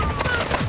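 Gunfire in a multiplayer shooter game, a short burst of rapid shots with a faint voice underneath.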